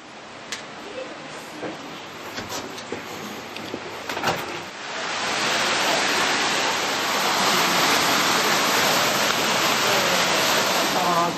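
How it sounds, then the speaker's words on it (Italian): The famous waterfall at Nesso rushes as a steady broadband roar that swells and grows louder partway through, after a quieter start with faint voices and a few bumps. "lì comincia la famosa cascata"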